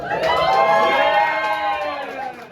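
An audience at a poetry event cheers and whoops loudly at close range, excited voices rising and falling together over about two seconds, with little distinct clapping.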